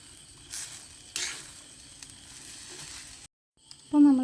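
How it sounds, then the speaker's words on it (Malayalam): Grated coconut and dried fish roasting in a hot pan for chammanthi podi give off a steady soft sizzle with a few stirring scrapes, a short gap, then a brief tonal squeak near the end. "ഇനി നമുക്കിതെല്ലാം ഒന്ന് വറുത്തിട്ടെടുക്കാം."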